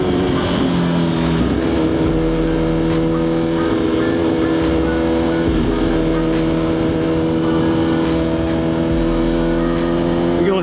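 A Suzuki GSX-R1000 motorcycle cruising on an uneven road, its engine droning steadily and loud with rising and falling revs and wind noise, as the rider eases off to pull over.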